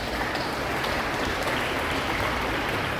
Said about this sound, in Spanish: Un aplauso a esos valientes que dicen sí.